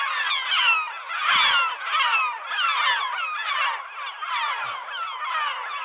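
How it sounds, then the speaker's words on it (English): Noisy birds chatter and squawk continuously overhead at Lagoa do Fogo in the Azores, a dense, rhythmic chorus of harsh calls rising and falling in waves, fairly close and loud. "some noisy birds overhead."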